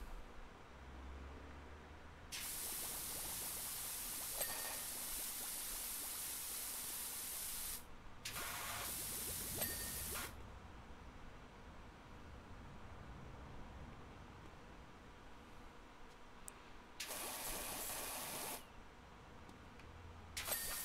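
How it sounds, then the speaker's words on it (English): A pressure washer sprays in PowerWash Simulator, a large vehicle being cleaned in bursts of hissing water, several long blasts separated by quieter pauses, with no talking. "Give that a quick spray."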